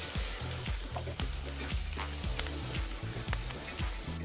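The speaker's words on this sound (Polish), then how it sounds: "Czy słyszycie, jak ten boczuś skwierczy?" Bacon frying in a pan, sizzling steadily with crackles and occasional stirring clatter, close and continuous, with no talk.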